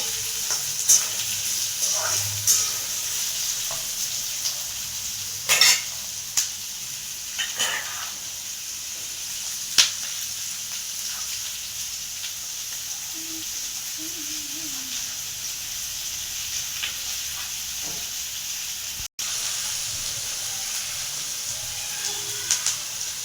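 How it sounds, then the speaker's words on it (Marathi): Onions frying in a pan until red-brown for a masala gravy: a steady sizzling hiss with occasional scraping stir clicks, continuous and fairly close, with no voices. "कांदा चांगला परतून घेऊया लाल ब्राऊन व्हायचं"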